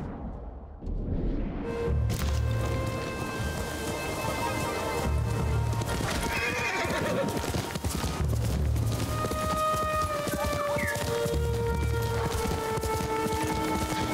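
Horse hooves clip-clop steadily in Ghost of Tsushima gameplay, repeated plodding steps under a continuous rain-like ambience and game music, with no clear neigh standing out.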